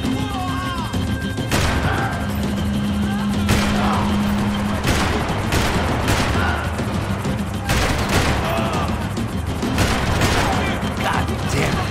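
Gunfire crackles in the third-person shooter Max Payne 3: loud, sharp bursts of rapid shots and heavy blasts come in clusters throughout, with voices shouting over the firefight.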